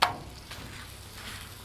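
A steady, crackling sizzle of a smashed burger patty frying on a hot Blackstone griddle, close and continuous, opening with a brief sharp clack.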